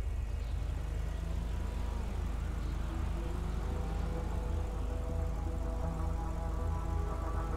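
A car drives up in Grand Theft Auto V, its engine a steady low rumble that builds and rises in pitch over game background noise, with no speech.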